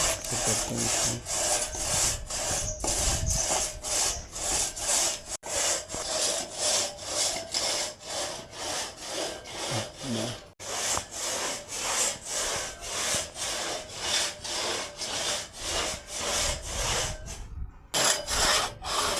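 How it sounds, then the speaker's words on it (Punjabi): A hand saw cuts through a neem tree trunk in steady back-and-forth strokes, a close, rhythmic rasping that continues for nearly twenty seconds with only brief pauses. "ਹੁਣ ਆਰਾ ਲਾਣ ਲੱਗੇ ਨੇ"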